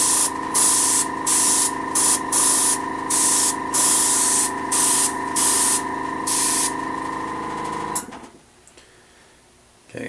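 Airbrush driven by a cheap compressor spraying paint on a Warlord Titan model, a loud close hiss pulsing in repeated bursts over a steady motor drone that cuts off near the end.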